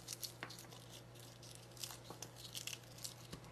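Garlic cloves pulled apart from a halved bulb for roasted chicken, giving soft papery tearing and crinkling in several quiet bursts over a low steady hum, close by.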